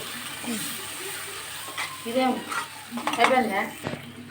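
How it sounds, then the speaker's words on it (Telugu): Paneer gravy curry is stirred in a pan after chili powder and salt go in, a close gentle sizzle with scraping spoon strokes while someone talks over it. "బాగా కలపాలి"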